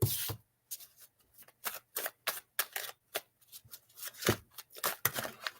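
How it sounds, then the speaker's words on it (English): Cards being shuffled up close: a rapid series of crisp riffling bursts with short pauses between them, and no talking. "As the night goes on, I'm getting better at shuffling at least."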